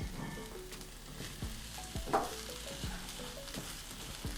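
Lentils tumbling into onions frying in hot oil, a steady close sizzle with soft stirring scrapes and one brighter crackle midway.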